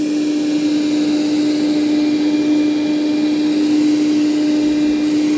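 A Dreametech L10S Ultra robot vacuum and mop combo runs in vacuum-only mode with its mop pads removed, giving a loud, steady whine with a strong constant tone over broadband airflow noise and no talking.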